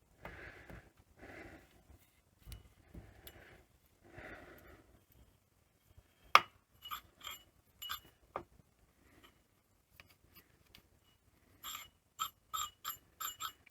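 A Philips N1702 dual-speed cassette machine with a faulty mechanism clicks and whirs after a head disc goes in, giving a quiet series of separate mechanical clunks and ratchety ticks with short gaps between them.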